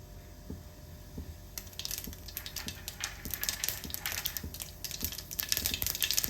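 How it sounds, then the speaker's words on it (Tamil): Mustard seeds and fennel seeds splutter in hot cooking oil while aval upma is prepared, starting as a steady low bubbling and then breaking into dense, crackling pops that grow busier and louder toward the end. "கடுகு நல்லா பொரிய ஆரம்பிச்சிச்சு."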